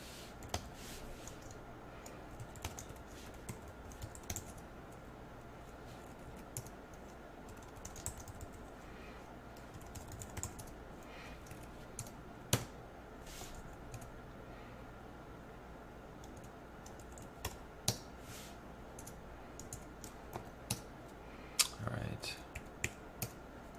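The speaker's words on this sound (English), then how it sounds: "Placeholder, let's type anything we want in there." Quiet, irregular clicks of fingers typing on a computer keyboard while filling out a web form, scattered light taps with a few louder keystrokes over a faint steady hum.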